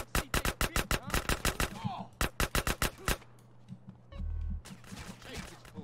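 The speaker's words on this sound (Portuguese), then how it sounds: "Tem gente atirando nas suas costas" Gunfire from GTA San Andreas: rapid bursts of loud, sharp automatic shots in quick succession, a short pause, another burst, then quieter game noise and a low rumble.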